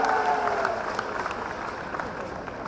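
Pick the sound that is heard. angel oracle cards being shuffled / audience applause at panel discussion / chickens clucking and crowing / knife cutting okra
audience applause at panel discussion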